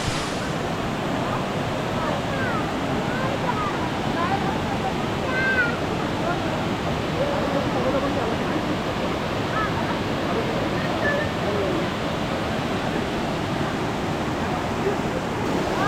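Elephant Falls in Shillong, Meghalaya, pours in a steady, broadband rush of falling water that holds an even level throughout, with faint bird calls and distant voices mixed into the constant roar.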